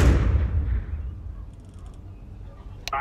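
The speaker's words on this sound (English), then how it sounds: "flashbang!" A flashbang grenade bursts in Counter Strike 2 with a loud, heavy boom that rolls off and decays over a couple of seconds, followed by faint high chirps and a sharp click near the end.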